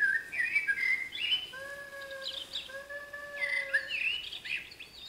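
A Zapf Creation Chou Chou interactive plush owl toy plays electronic owl sounds after a button press: a bright twittering call, then a series of steady whistled hoots, then more chirping, all clear and close with faint room noise underneath.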